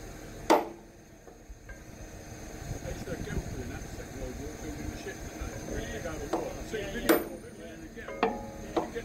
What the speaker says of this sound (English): That rivet is definitely moving, Harry, so keep swinging that hammer.